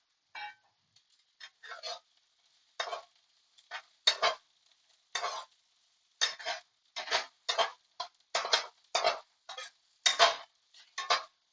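A wok spatula stirs and scrapes fried rice in a wok, giving short, sharp metallic scrapes and clinks in irregular bursts, close and fairly quiet with silence between strokes.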